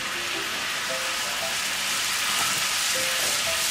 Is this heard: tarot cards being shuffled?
no